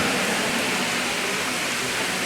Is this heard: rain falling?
yes